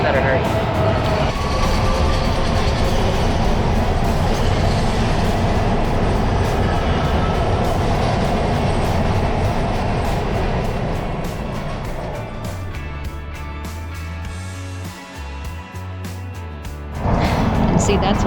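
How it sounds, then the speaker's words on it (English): A MARTA Blue Line rapid transit train pulls into a station, a loud, steady rumble and roar that eases and settles toward the end, then swells again in the last seconds, heard close up with no talking. "another train's here, so I better hurry."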